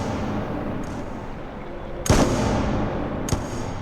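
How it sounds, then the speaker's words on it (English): Two sharp video game gunshots in a Wwise and Godot audio demo, one around the two-second mark and another about a second later, ring out over a steady hum of room ambience. "you can hear the gunshot sounds and also the room ambience coming in and out"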